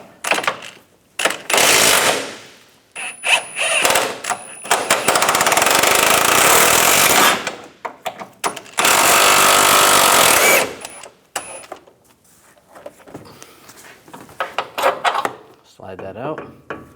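Bolt on a front forward control arm of a 2012-2019 BMW 328i xDrive being worked with an 18mm socket, loud bursts of ratcheting or impact-tool clatter alternating with quieter gaps and short metallic knocks.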